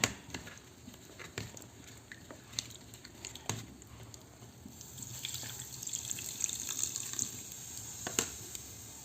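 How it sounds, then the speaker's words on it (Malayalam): Water pours into a pot of dried shark curry, a soft trickling stream with scattered clinks and drips that grows a little louder toward the end, no speech. "വെള്ളം നമുക്ക് കുറച്ചും കൂടെ ഒഴിച്ചെടുക്കാം"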